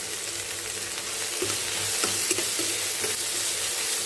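Onion, green chilli and curry leaves sizzle steadily in oil in a pan, with a few soft scrapes of a spoon stirring them; no one speaks.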